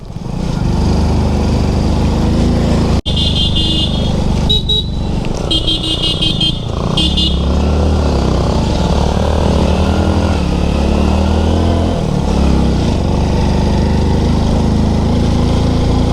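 A 100cc motorcycle engine labours uphill, a loud close continuous drone with a horn sounding in short bursts early on.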